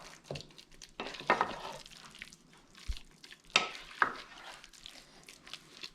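A cod fish cake mixture worked by hand or utensil in a bowl, a few scattered scrapes and light clinks separated by quiet stretches, close and soft.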